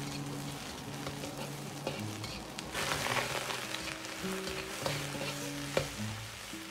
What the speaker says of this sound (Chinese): 锅中再次放入少许的植物油， 油热后先下入洋葱，